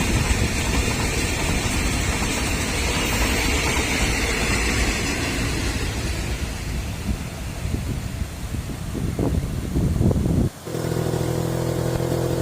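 A CSR freight train hauled by a locomotive from Laem Chabang rolls past in a loud, steady roar that fills the whole stretch before cutting off abruptly near the end.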